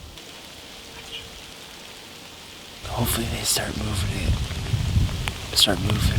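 Steady rain falls outdoors in the Iowa woods during a whitetail deer hunt, a soft hiss that grows noticeably louder partway through, with someone speaking quietly over it.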